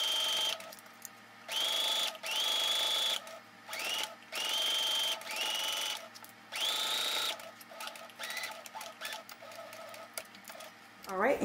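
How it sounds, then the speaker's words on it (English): A sewing machine stitching a pocket seam on a high-low faux wrap skirt, running in several whirring bursts with short pauses between, close and fairly loud, with a voice talking in the gaps. "Begin sewing and backstitch"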